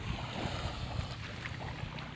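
Steady wash of waves and wind on Biduk-Biduk white sand beach, a broad continuous rush with soft surges and no voices.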